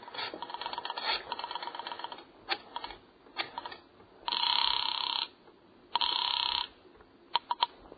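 A telephone in a radio drama rings twice in two bright, buzzing bursts about a second long, preceded by scattered clicks and taps.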